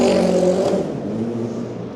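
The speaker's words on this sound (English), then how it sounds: "Jamie Chadwick just working her way out now to take part in the race" An LMP2 race car at Le Mans pulls out of the pit lane, its engine a strong buzzing whine that drops slightly in pitch as it moves off, loud and close with no talk.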